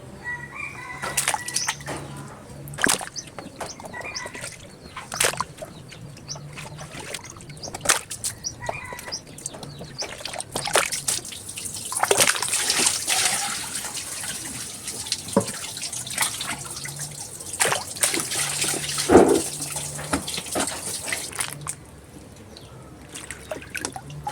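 Giant sour tamarind pods are rinsed in water, with repeated splashing, dripping and sloshing under a running tap that continues through the whole stretch at moderate, uneven loudness.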